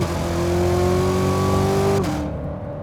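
A C7 Corvette Z06 with 335-section rear tires pulls hard in second gear, its engine note climbing steadily and loud, then easing off into a lower drone near the end.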